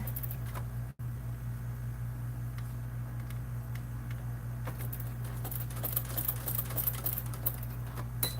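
A sewing machine stitches a Swoon Maisie bag, running in a continuous steady whir with fast rhythmic needle patter; a brief break comes near the start, then stitching resumes, with sharper clicks toward the end.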